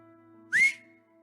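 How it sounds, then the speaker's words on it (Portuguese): A person whistles a single short rising note that slides up and holds briefly, clear and close, against a quiet background with a faint steady hum. "você gostou do assobio"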